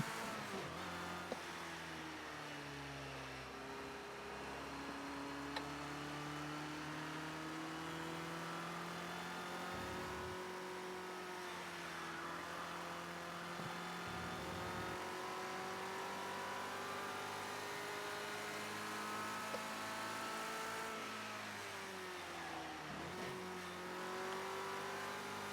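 Ford Escort RS1600 in the Project Cars 2 racing game, its engine droning and revving continuously through gear changes, rising and falling pitch with brief dips as it shifts, loud and steady throughout.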